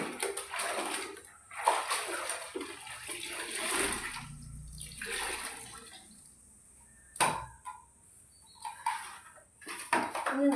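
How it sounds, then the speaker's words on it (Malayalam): Something is rinsed in water at home, with sloshing, splashing and pouring bursts coming in uneven surges and pauses, close by and fairly clear. "ഇനി ഇത് 1, 2, 3 വെള്ളത്തിലൊന്ന് കഴുകിയിട്ട് വേണം"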